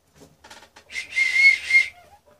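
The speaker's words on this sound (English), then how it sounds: "Not a great one, but hey, a whistle." A small survival whistle from a sardine-tin survival kit gives a few short breathy toots, then a thin, slightly wavering shrill blast lasting about a second, close by.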